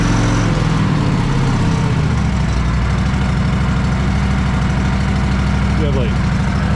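A snow blower machine's engine idles close and loud, a steady low rumble and chug that shifts slightly in pitch after the first couple of seconds, with a voice speaking over it.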